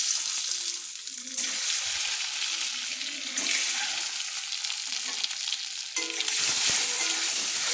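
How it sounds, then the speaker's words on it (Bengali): Turmeric-coated eggs fry in hot mustard oil in a pan, a loud, steady crackling sizzle that surges and settles as they are turned, close up with no voices. "দেখুন বন্ধুরা আমি হলুদ মাখিয়ে রাখা ডিমগুলো আমি ভেজে নিচ্ছি।"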